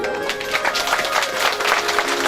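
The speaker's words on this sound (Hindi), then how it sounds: "जोरदार तालियां हमारी माताओं को" An audience at a devotional Bhagavata Katha recitation claps loudly and continuously for the mothers present, a dense, even wave of applause with no voice on top.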